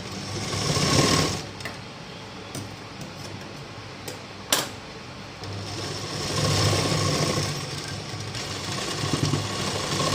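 A sewing machine stitches a blouse in rapid bursts of even, rattling needle strokes, pausing and restarting, with a few sharp clicks between runs, close and clear with no talk.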